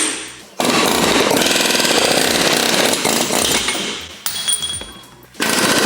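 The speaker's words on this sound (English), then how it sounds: "I am knocking the old bushings out so we can slide the polyurethane ones in" Old bushings being knocked out of a BMW M3 to make way for polyurethane replacements, heard as a loud, close, continuous rattling power-tool hammering with brief pauses.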